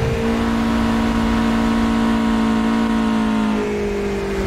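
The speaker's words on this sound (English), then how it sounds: "Love that engine." Car engine heard from inside while driving, a steady, loud engine drone with rising harmonic tones as it revs, then easing off slightly near the end; no talking.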